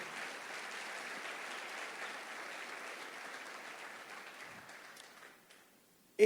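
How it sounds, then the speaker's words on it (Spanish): Church congregation applauding in a dense, steady wash of many hands, holding level for several seconds before fading out, with a brief louder knock right at the end. "Dele un aplauso al Señor por eso"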